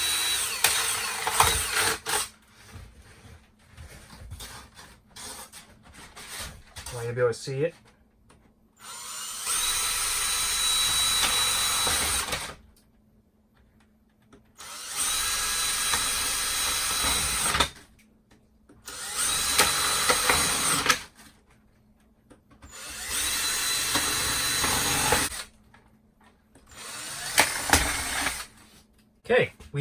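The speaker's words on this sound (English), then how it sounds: "I'm going to just drill a couple holes." A power drill whirs through plastic trays in several sustained bursts of a few seconds each, separated by pauses, with a person talking between and before the drilling.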